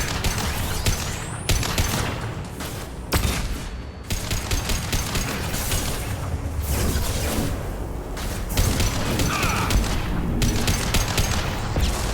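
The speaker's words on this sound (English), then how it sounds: "Watch out, flashbang!" A flashbang grenade bursts in the Mass Effect 2 game amid sustained gunfire, with loud explosive booms and dense overlapping shots filling the scene throughout, plus a brief whoosh near the start.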